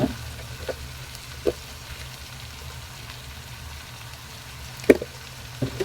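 Mutton liver sautés in a pan with a soft, low sizzle. Scattered wet clicks and occasional sharper taps from stirring rise above it.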